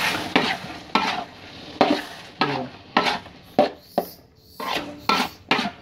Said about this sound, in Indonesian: Ini sambil kita aduk-aduk nih.